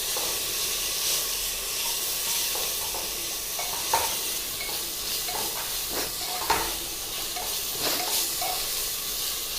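Ginger garlic paste sizzling in hot oil, a continuous bright frying hiss with scraping stir strokes and a couple of sharper clacks, close and fairly loud with no talking.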